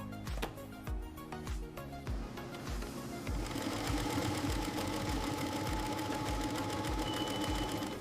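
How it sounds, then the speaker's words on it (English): An automated laser-guided sewing machine stitches leather handbag panels in a factory, first in spaced thumping strokes, then settling into a fast, steady, loud mechanical chatter. "Automated laser-guided structural sewing."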